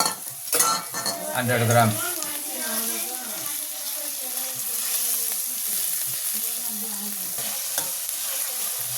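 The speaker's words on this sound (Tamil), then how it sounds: "நல்லா ஆஃப் ஃப்ளேமில் நல்லா ஃப்ரை பண்ணணும்." Chopped onions and minced chicken keema fry and sizzle in oil in a pan while being stirred, a steady close crackle that carries through the clip, with a voice talking over it.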